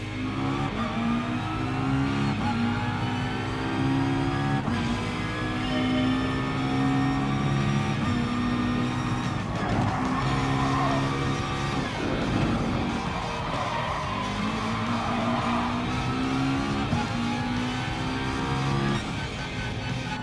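A McLaren race car in Gran Turismo Sport revs loud and close, its engine whine climbing and dropping through gear changes over a steady, continuous drone.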